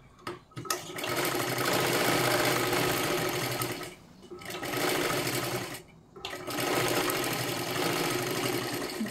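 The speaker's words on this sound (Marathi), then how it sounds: "परत त्याच्यावरती आपल्याला डबल शिलाई घ्यायची आहे।" A sewing machine double-stitches a size 38 princess-cut blouse, whirring in three fairly quiet, steady runs of rapid stitching broken by brief stops.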